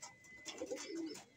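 Pigeons coo softly at a breeder's loft, with two or three quiet, low warbling calls heard close by in a short moment.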